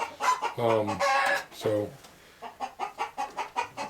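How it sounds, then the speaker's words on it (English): Hens cluck in a henhouse with nest boxes, loud drawn-out calls near the start followed by a quick run of short rhythmic clucks, with a brief word spoken. "And a little hen in her nest box."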